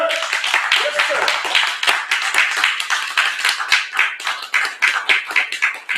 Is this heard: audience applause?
yes